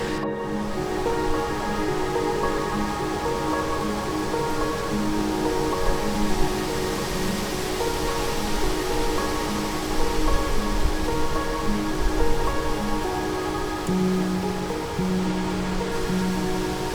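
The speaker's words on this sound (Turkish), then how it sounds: "Rüzgar aynı şiddette, hatta zaman zaman çok kuvvetli kaçaklarla esmeye devam ediyor." Strong, gusting wind roars steadily along the Gökçeada coast, a dense continuous rush with occasional stronger surges and no voices.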